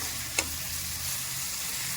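Chopped tomato and green chillies fry for mutton gravy in a continuous even sizzle, close by, with one brief scrape of a spoon near the start and no voices.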